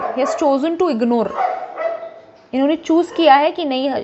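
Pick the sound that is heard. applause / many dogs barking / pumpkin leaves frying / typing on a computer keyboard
many dogs barking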